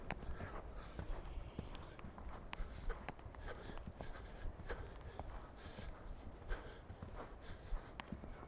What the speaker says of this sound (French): il y a les chevaux derrière qui jouent dans l'eau